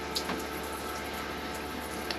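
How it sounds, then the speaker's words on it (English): Cold water runs from the shower tap of an RV being winterized, a faint, steady hiss of flowing water with a few small splashes and no voices. "And there you go, look at all that water."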